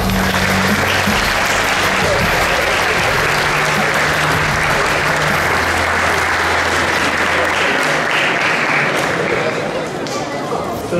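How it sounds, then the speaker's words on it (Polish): Loud, sustained applause fills the room at a tenth-anniversary celebration for a youth sports club held at Rydzyna Castle. The dense clapping runs continuously throughout, and a voice speaks briefly over it near the start before the crowd carries on alone. "Wielkie, gromkie, głośne brawa!"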